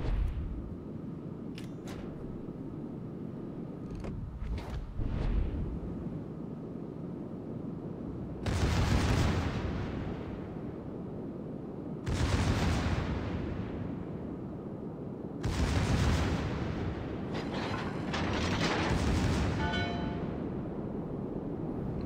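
The battleship Hermes fires its big guns in a naval combat game, several heavy booming salvos a few seconds apart, each a loud, broad blast with a long rumbling tail, with quieter battle sounds between them.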